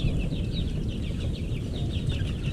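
Shamo gamecocks clucking in a backyard, short, repeated calls at moderate distance over a constant low rumble of background noise, with no voices present.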